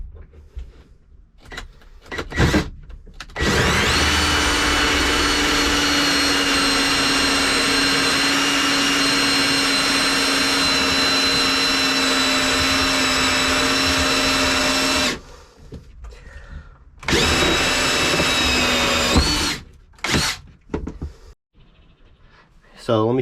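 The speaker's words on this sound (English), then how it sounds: "So let me get a hole saw." A hole saw cuts through a divider inside a boat, producing a loud, steady whining drone for about twelve seconds, a short pause, then a second shorter burst, with handling clatter before and after.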